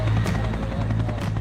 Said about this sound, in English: So they all get in a helicopter,